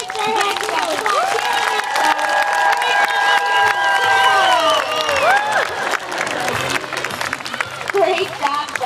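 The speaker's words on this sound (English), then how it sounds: "He just wanted some more applause from all of you." Aquarium show crowd applauding and cheering for Java the young sea lion, loud clapping mixed with whoops and children's shouts, with whistle-like tones and an announcer's voice running over the top.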